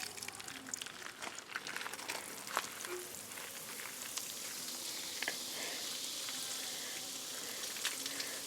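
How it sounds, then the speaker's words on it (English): Neutralizer solution fizzes and sizzles on a stained concrete countertop, a faint, steady hiss with a soft crackle that runs evenly throughout with no talking. "Don't get tired of the dramatic sizzling of the neutralizing"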